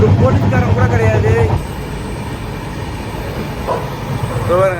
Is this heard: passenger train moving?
yes